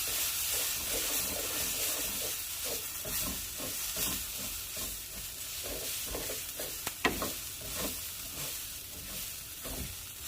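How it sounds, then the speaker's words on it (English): Rice and tomato paste fry in oil while being stirred, giving a steady loud sizzle throughout, with repeated scraping strokes of the spoon and a couple of sharper clinks near the end. "I'm going to cook the tomato paste and kind of mix it in with the rice for a minute or so."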